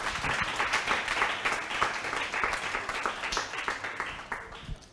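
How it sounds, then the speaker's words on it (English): Audience applause at a chat event, a moderate round of clapping at some distance with a few voices mixed in, fading toward the end. "Round of applause, ladies and gentlemen."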